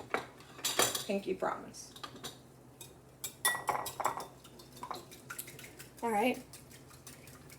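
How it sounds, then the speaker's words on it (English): Metal whisk clinking and scraping rapidly against a bowl while beating eggs for egg bites, in quick irregular bursts, with a person talking over it. "I'm going to go in with a whisk."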